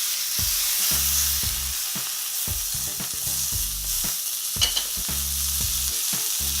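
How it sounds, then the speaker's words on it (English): A burger patty sizzles steadily in a hot pan, a constant frying hiss broken by repeated scraping and stirring knocks. "So it looks like the meat is starting to cook."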